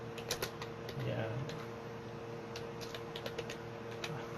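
Typing on a computer keyboard, with soft, irregular key clicks in quick clusters at low level, accompanied by a faint creak and a quiet room hum.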